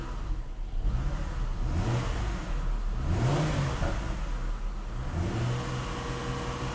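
A car engine idles and revs up repeatedly, the pitch rising and falling in several swells, close and loud.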